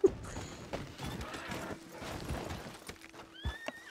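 A horse whinnies in the video game Red Dead Online: several clear neighs ring out over a bed of clip-clopping hooves and outdoor game ambience, with a sharp whinny near the end.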